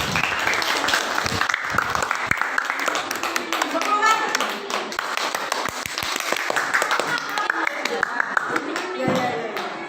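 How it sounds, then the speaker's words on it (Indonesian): Group clapping in a classroom coaching session after a team presentation, steady scattered claps running throughout under overlapping voices and a spoken cheer. "Beri tepuk tangan."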